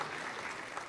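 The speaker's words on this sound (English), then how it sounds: "the Carleton University people leading the applause there" Faint, brief patter of clapping from a breakfast-event audience, started by people from Carleton University, soft and distant for under a second.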